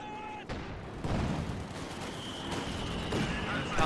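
Tank cannon fire and battle noise from a Panzer IV in a World War II real-time strategy game, a steady din of gunfire and booms with a sharp blast near the half-second mark and more explosions rolling on behind it.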